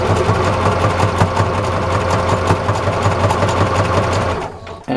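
A sewing machine runs continuously, stitching homemade dish washing sponges with a steady, loud mechanical whir and rapid needle rhythm, then stops abruptly just before the end.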